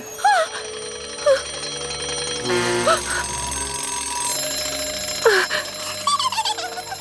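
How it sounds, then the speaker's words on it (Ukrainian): Several cartoon alarm clocks ring in bursts, bright trilling bells and warbling tones overlapping and starting and stopping irregularly, loud and close. "Знову ці будильники просто кошмар якийсь."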